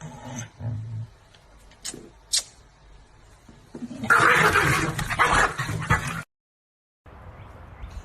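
A big German Shepherd barks in a few short, loud bursts, followed by a stretch of scuffling noise and a brief silence.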